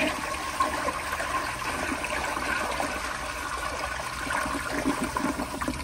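A 1972 Kilgore Argus toilet with double siphon jets flushes powerfully, a loud, steady rushing gush of water lasting several seconds with no voices.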